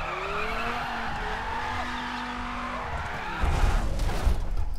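A Dodge Viper driven in The Crew racing game: a steady engine drone with rising gear tones, then tyres squealing and rumbling as the car slides, sounding close and fairly loud.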